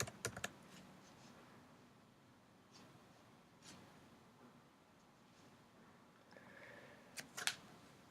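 Typing on a computer keyboard comes through as sparse, faint clicks over a quiet room. Short clusters of keystrokes at the start and near the end are the loudest, and no one speaks.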